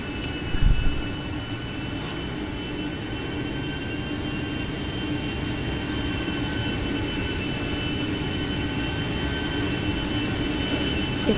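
Steady loud roar of a jumbo jet's engines close by on an airport apron, a continuous broadband rumble with a faint whine, preceded by a brief thump.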